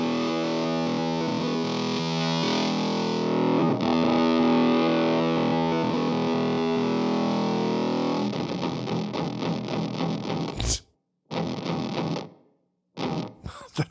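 A guitar run through a Gatekeeper octave pedal plays a loud, fuzzy, sputtery distorted tone that holds steadily, then breaks into choppy gated bursts with abrupt silences near the end.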